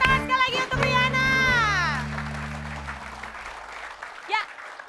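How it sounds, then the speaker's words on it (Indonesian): A studio audience on an Indonesian comedy game show applauds for a contestant named Riana, steady clapping over a bright musical jingle that sweeps and fades midway, then the clapping thins out near the end. "Tepuk tangan sekali lagi untuk Riana"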